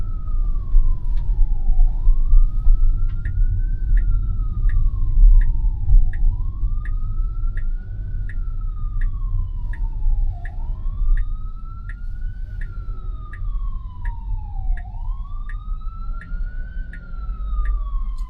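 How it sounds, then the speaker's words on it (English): An emergency vehicle siren wails in repeated rising and falling sweeps, loud and steady throughout, over low road rumble heard from inside a car driving through Queens. "Okay, is that an emergency vehicle?"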